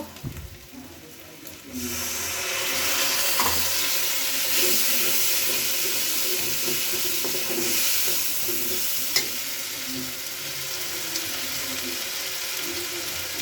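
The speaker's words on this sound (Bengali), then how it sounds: "এখন এই সব মশলাগুলো ভালো করে কষায় নিচ্ছি" Spices sautéed with onion, ginger, garlic, cumin and salt-turmeric for mutton kosha, stirred in a pan, with a steady close sizzle and scraping after a quieter start and occasional clinks.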